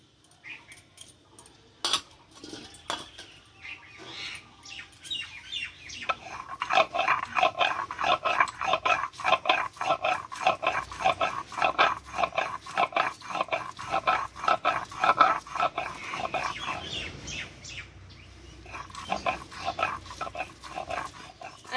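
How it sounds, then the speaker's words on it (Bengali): Lentils ground by hand on a shil-nora grinding stone, the stone rolled back and forth in a steady rhythmic scraping that starts sparse, settles into regular close strokes, then pauses and resumes. "এই ডালটা আমি শিলনোড়ায় বেটে নেব"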